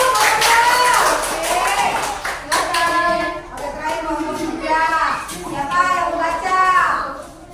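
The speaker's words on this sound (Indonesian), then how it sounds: "Oke, tepuk tangan dulu." A group of children claps in quick, rhythmic bursts, loud and close, while voices talk and chant over the clapping throughout.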